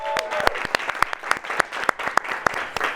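Studio audience applause at a live political talk show rings out as a burst of sharp, rapid claps, moderately loud and steady for a few seconds with no talking over it.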